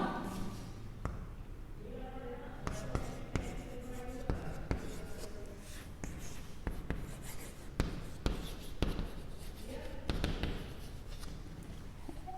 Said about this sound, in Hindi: ऊपर लिखती हूँ मैं इसको, 1 मिनट।